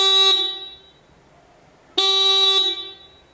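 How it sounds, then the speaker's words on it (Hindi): A motorcycle horn fitted with a new battery gives two loud, steady electric honks, each lasting well under a second and separated by a pause, close by and alone without speech. "तो अभी बिल्कुल न्यू बैटरी की तरह इस बाइक के अंदर हॉर्न की आवाज़ आ रही है"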